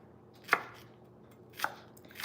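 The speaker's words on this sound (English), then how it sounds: "I tend to try and cut the onions a little bit smaller" Knife chopping onions on a cutting board: three separate sharp chops, spaced about a second apart, close and fairly quiet, with no talk.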